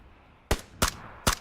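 Three sharp, loud gunshots in a video game, spaced about a third of a second apart, each a sudden broadband crack with a short tail, over a quiet low background.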